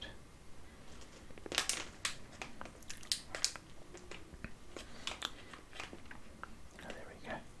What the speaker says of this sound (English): It's time to cut open the packet.